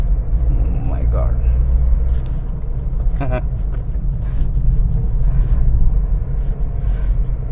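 A 14-year-old VW Polo drives along with a steady, loud low engine and road rumble filling the cabin throughout, and brief voice sounds rise over it early on.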